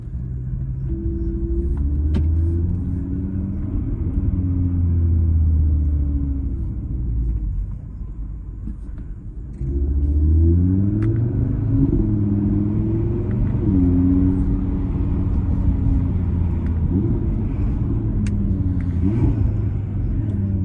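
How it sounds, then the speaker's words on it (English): An Audi TT RS five-cylinder engine pulls hard through several gears, its deep rumbling note climbing and dropping at each shift, loud and close with no voices. "the sound of a 5-cylinder is very, very charismatic"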